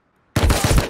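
A water pipe shotgun blasts in a video game, one loud, abrupt close-range shot bursting out of silence and ringing with a rough, pulsing tail for more than half a second.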